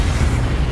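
Incendio fire spell in Hogwarts Legacy, a short loud roaring burst of flame that stays dense and thundering throughout.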